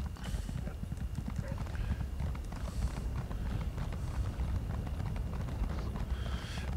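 A horse's hooves clip-clop in a quick, continuous rhythm while riding in the Elder Scrolls Online video game, moderately loud and steady, with a voice talking over them.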